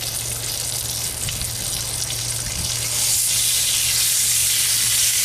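Bacon sizzling on a hot cooking stone, a steady loud crackling hiss that swells slightly louder partway through as strips go down on a hotter spot, with no voices.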